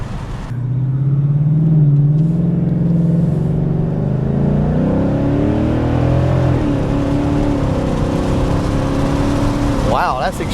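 A car idles and revs gently through a classic muffler with the exhaust in track mode, giving a steady, fairly quiet low drone with slight rises in pitch, close by and without any voice.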